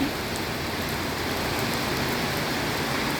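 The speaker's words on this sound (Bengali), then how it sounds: "হঠাৎ বৃষ্টি, যদিও আকাশ একেবারে স্বচ্ছ" Sudden rain falls steadily with a dense, even hiss of drops on surfaces, constant and moderately loud throughout, with no voices.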